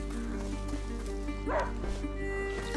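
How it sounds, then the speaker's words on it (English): Hunting dog in the video game A Plague Tale Innocence giving a short whimpering bark and yip over a steady droning game soundscape with tonal music, fairly soft and brief, without speech over it. "a hunting dog is not supposed to lose its hunter."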